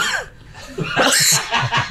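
A few short, harsh coughs burst out close up, mixed with breathy laughter-like sounds across a couple of seconds.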